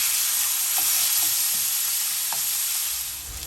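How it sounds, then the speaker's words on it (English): Keto pork chops sizzle loudly and steadily in a hot pan as they are flipped, a continuous close frying hiss with a few faint clinks and stirring sounds and no talking. "it's time to flip these pork chops on over"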